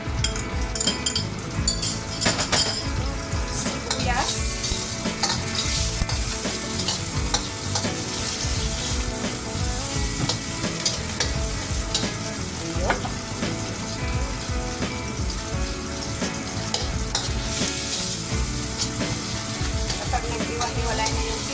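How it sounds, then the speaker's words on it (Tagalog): Broccoli sautéing in the same pan just used for cuttlefish, with a steady sizzle and frequent scraping, stirring clinks of a utensil against the pan throughout, close and continuous. "Igigisa po natin ang ating broccoli."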